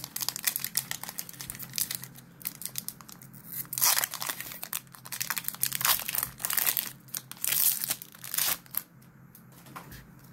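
A Pokemon TCG Crown Zenith booster pack is torn open by hand, with close, crisp crinkling and ripping foil bursts coming in irregular clusters over about ten seconds.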